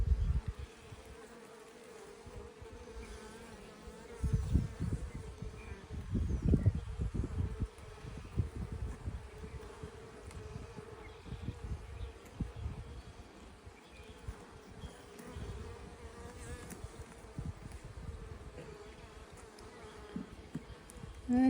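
Honeybees buzz around an opened nuc hive during an inspection, a soft continuous drone with swells as bees move near, plus occasional handling bumps; no speech.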